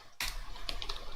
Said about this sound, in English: So I can go ahead and type the rest of the information I want